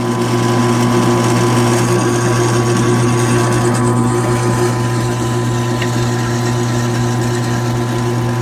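A drill fitted with a debarking bit strips bark from a log for a sawmill, giving a loud, steady mechanical whine with a droning motor tone that runs unbroken throughout.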